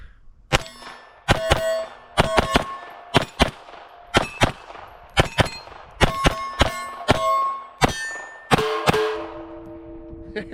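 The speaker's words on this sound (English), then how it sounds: "It's just fun shooting a keg." Bullets strike a steel beer keg at a shooting range, sharp gunshots and ringing metallic clangs arriving in bursts and single hits, loud and nearby.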